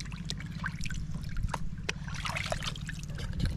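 Water trickles and splashes during rinsing, a continuous close dribble broken by small clinks and knocks, with no speech.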